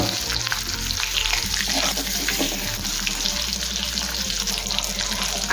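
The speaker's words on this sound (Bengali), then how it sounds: "এখন এই একই তেলের মধ্যে আলুগুলো দিয়ে একটু ভেজে নেব।" Potatoes frying in the same oil used earlier for eggs, cooked for Kolkata-style egg biryani, give a steady, dense, loud sizzling hiss that runs unbroken throughout with no voices.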